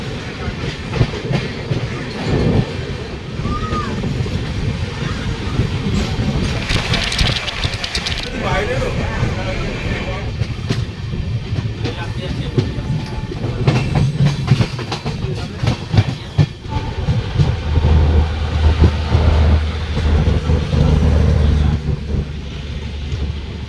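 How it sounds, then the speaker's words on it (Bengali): Rupashi Bangla Express runs after leaving Medinipur station, a steady rattling clickety-clack of wheels on rails with rumbling wagons over a long stretch, loud and close, with occasional voices. "ট্রেনটি তার অ্যাকচুয়াল টাইম আটটা ছাব্বিশে ট্রেনটি ছেড়ে দিয়েছে পরবর্তী ডেস্টিনেশন শালবনী স্টেশন যাওয়ার উদ্দেশ্যে"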